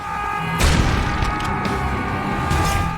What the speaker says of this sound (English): Blasting the process with 2 shotguns will never stop being fun.